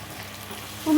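Pani puri dough rounds dropped one by one into hot oil, making a close, steady sizzle with a faint bubbling crackle over a brief moment.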